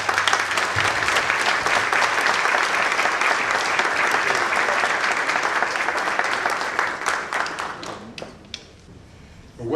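A conference audience claps to welcome a speaker onto the stage, a dense, full round of applause that holds strong for several seconds before thinning into scattered claps and fading out.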